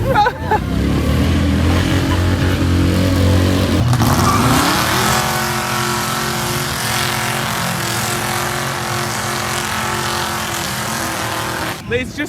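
Lamborghini Huracan STO engine roaring loudly through a burnout, a sustained high rev for about four seconds that drops into a steady lower drone, with people talking over it.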